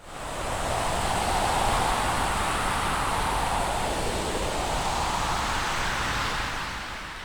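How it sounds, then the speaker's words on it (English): A dense synthetic wash of wind and rain from an Arturia Pigments 4 storm preset, steady and loud throughout, with a soft swelling whoosh that rises and falls; no voices. "this is another effect called the Storm, and this one is kind of like wind and rain"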